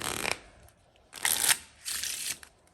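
A deck of playing cards being shuffled during a card trick, three quick riffling bursts with short gaps between them, close and crisp.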